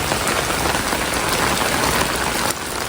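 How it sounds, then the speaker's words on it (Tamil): Heavy rain pours down around a house, a dense, constant hiss of drops striking surfaces, loud and close, dipping only slightly near the end, with no speech. "மழை தண்ணி எப்படி ஊற்றிட்டு இருக்கு பாருங்க"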